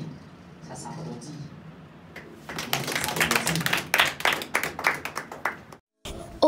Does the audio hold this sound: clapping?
yes